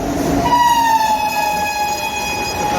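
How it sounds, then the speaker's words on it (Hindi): A train rolls through a railway station in Pune district, Maharashtra, loud and close, with a long steady rumble and sustained tonal whine or horn drone holding throughout. "अभी ट्रेन गुजर रही है।"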